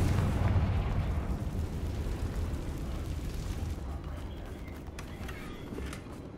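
A Confringo fire spell detonates in the Hogwarts Legacy game, a loud rumbling blast with a sustained low roar that slowly fades over several seconds, no talk over it.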